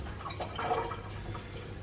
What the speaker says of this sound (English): I'm going to give it a quick wash